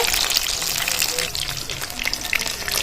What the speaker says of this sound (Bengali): লোটে মাছের পকোড়াগুলো এইভাবে লাল লাল করে ভেজে নিতে হবে